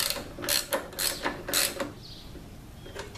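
Bolts being tightened on a rider backrest mount of a Harley touring motorcycle, with a series of quick ratcheting clicks in several short bursts, close and moderately loud, then a quieter pause.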